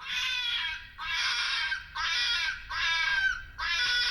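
Loud, harsh screaming calls from a fox, repeated five times in a steady rhythm with short gaps between them, heard close with no talking.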